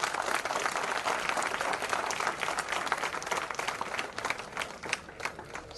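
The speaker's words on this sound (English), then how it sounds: "Good round of applause." An audience at an engineering college event applauding, a dense sustained round of clapping from many hands that fills the room and fades slightly near the end.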